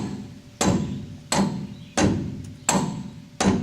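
A hammer striking the thick part of a Chevy K-10 truck axle, five sharp metallic blows at a steady pace about seven tenths of a second apart, close and loud with no talk.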